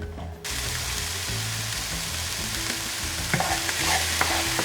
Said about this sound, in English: So I'm just gonna add in my onions and green pepper and garlic, and we're gonna saute that up for a few minutes.